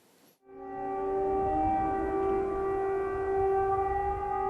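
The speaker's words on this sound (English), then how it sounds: "Every night now, the air raid sirens wail and people scramble for safety." An air raid siren in Ukraine starts up and holds a loud, steady wailing tone with layered harmonics, continuing unbroken after a brief quiet moment.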